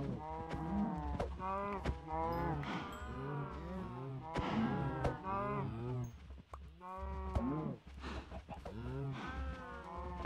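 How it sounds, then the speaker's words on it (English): Cows mooing in the Minecraft video game, a steady series of low, drawn-out moos overlapping one another, fairly close and continuous, with no talk over them. "Okay, cows, it's time for the harvest."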